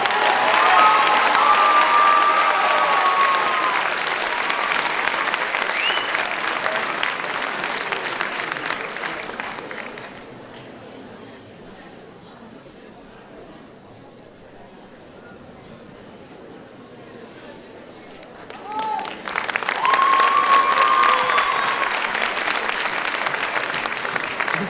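Theatre audience at a high-school eloquence contest final bursts into long, loud applause with some cheering, fades to a quiet lull midway, then surges into clapping again near the end.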